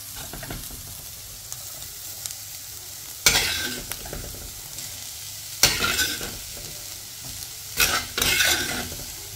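Spinach thoran being stirred with cooked green gram in a pan, a soft steady sizzle broken by three sharp scraping stirs of the spatula against the pan.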